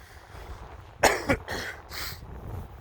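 A single sharp cough, then a second smaller one, close and clear against a quiet car interior with faint background hiss; no talking.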